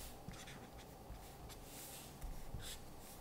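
A marker is pressed hard and dragged across paper in broad strokes while an autumn tree is drawn, giving close, dry scratchy swishes that come in short bursts with a few firmer taps.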